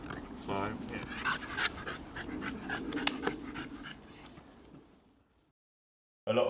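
A small, friendly rescue dog pants in quick, steady breaths close by, with a voice present, until the sound drops to near silence shortly before the end.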